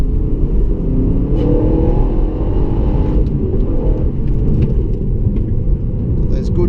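A 2016 HSV GTS drives past 4,000 RPM with its exhaust valves open, giving a loud, steady engine roar and deep rumble that holds for the whole stretch, heard from inside the car.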